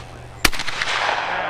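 A single sharp shotgun blast at an outdoor skeet shoot, fired from a layout blind, with a short ringing decay afterward and faint voices nearby.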